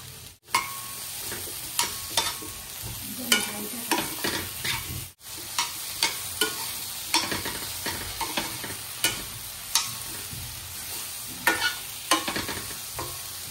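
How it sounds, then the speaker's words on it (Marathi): Raw banana is stir-fried in spice masala for a Marathi kachchya kelichi bhaji: a spatula scrapes the pan in repeated, rhythmic strokes over a steady sizzle, with no talking. "केळी आपण आता मसाल्यामध्ये छानपैकी परतून घेतलेली आहे"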